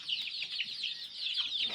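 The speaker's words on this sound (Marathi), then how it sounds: "हा लाल कोंबडा आहे, तर तो मोठा आहे." Free-range village hens and a big red rooster cluck and chatter in a steady, faint flurry of short, overlapping calls.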